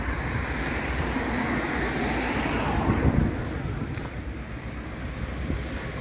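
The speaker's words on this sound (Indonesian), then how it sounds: "Soalnya kita bener-bener pinggir jalan. Tuh si bus buat lalu lalang." Roadside traffic rumbles past with buses coming and going beside an autumn apple-picking spot, a continuous low roar with wind buffeting the microphone and a louder swell as a heavy vehicle passes close.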